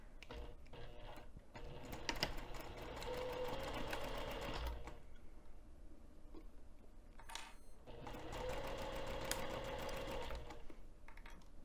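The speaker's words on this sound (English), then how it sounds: "I'm just going to start sewing from one end to the other" A sewing machine stitches fold over elastic at a 3 mm stitch length, running in two sustained whirring bursts separated by a short pause, close and clear with no talk.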